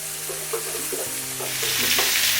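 Tomato, cauliflower and onion stir-frying in a hot pan, a continuous loud sizzle with spoon scrapes and stirring knocks repeating roughly every half second, close up and without speech.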